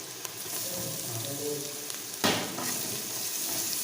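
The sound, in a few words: ginger garlic paste frying in a pan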